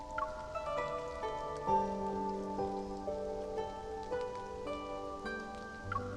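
Rain patters steadily on surfaces in the video game Love and Deepspace, a soft continuous wash running beneath gentle sustained musical tones, with no voices.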